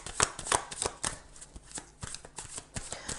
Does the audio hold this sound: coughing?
no